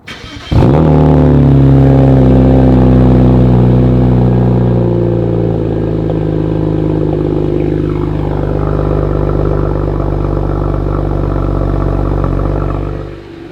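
A BMW N54 engine fitted with a VRSF chargepipe and TiAL blow-off valve cold-starts: a quick crank, then a loud, close, steady high idle with a faint rattle that slowly settles.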